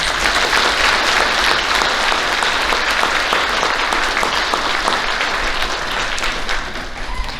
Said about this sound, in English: Would you please give these students a big round of applause?